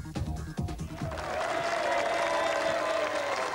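An audience at the World's Strongest Man 1996 qualifying rounds on Mauritius applauds and cheers, starting after a few brief knocks and building into a sustained, broad crowd roar.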